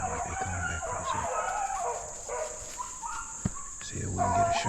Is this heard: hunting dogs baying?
yes